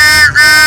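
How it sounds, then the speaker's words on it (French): A fairground steam locomotive whistle gives a loud, steady, close-up blast. Its shrill tone holds bright harmonics, with a brief dip in the middle of the blast. "Le sifflet, le fameux sifflet."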